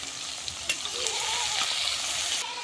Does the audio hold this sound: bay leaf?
yes